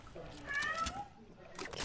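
A pet cat meows a few times close by, short tonal cries over background game sound, with a person talking around them.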